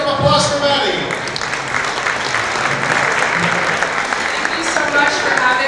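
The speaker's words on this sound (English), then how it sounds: "Let's have a round of applause for Maddie." An audience at a breakfast event breaks into sustained applause to welcome a speaker, with a voice briefly heard at the start and a few whoops over the clapping.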